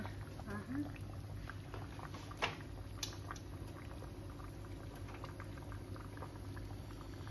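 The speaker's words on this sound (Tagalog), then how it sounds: "Ayan, guys, kumukulo na siya." A pot of water at a rolling boil, bubbling and pattering steadily up close, with a couple of faint clinks.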